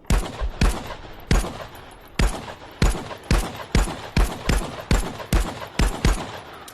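A Glock pistol fired in full auto in the VR shooter Contractors, sharp loud shots in quick clusters and steady single bursts, about a dozen distinct bangs with short gaps between.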